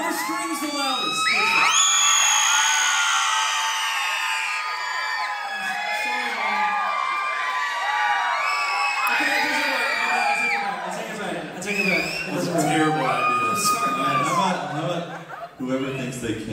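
Concert audience screaming, whooping and cheering loudly and continuously, a dense wall of mixed voices with shrill shouts and laughter rising and falling throughout.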